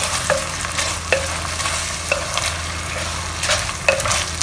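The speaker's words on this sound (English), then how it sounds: "Give it a good stir." Pork belly with salted fish being stirred and fried in a pan with sugar: steady loud sizzling under repeated scraping strokes of a spatula against the pan, several distinct clinks, close and without voices.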